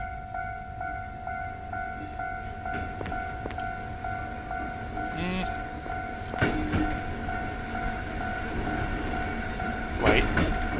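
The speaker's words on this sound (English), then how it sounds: "something is wrong with the train." A train rolls past a railroad crossing in a Japanese-style anomaly horror game, its steady rumble and clacking wheels heard alongside the crossing's ringing signal tones, with a few sharper clanks and bursts along the way.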